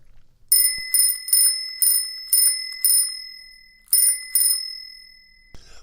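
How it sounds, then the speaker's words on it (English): A bicycle bell mounted on the front handlebars rings loud and close in eight crisp, evenly spaced dings with a short pause before the last two, with no voices. "you had those bells on your bike. The bells on the front handlebars"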